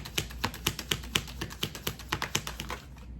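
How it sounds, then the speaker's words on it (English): A deck of tarot cards is rifled and shuffled by hand, giving a quick run of crisp, evenly paced clicking taps, close and clear, that continues for about three seconds with no talking. "You see me rifle through these cards."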